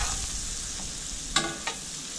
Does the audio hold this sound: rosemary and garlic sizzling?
yes